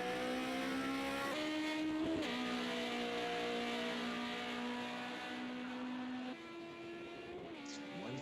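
A BMW 2002 race car screams through the last turn at Laguna Seca in a racing game, its engine holding a loud steady drone that dips briefly around a gear change, then settles and drops slightly lower near the end.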